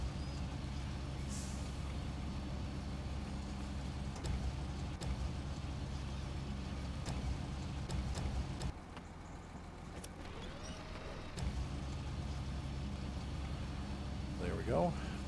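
A crane truck in SnowRunner runs with a steady low engine rumble and a brief air-brake hiss, its tone dipping midway as the truck changes mode.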